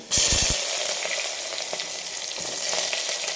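Onion dropped into crushed garlic frying in hot oil, a loud burst of sizzling on impact that settles into a steady, dense crackle.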